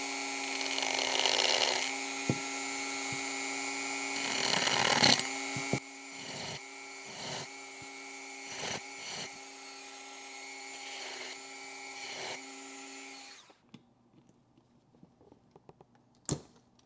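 Grinder working the valve body of a 1972 Triumph GT6 fuel pump, a high steady whine with pulsing dips as the tool bites, cutting out partway through to a few faint clicks and one sharp knock.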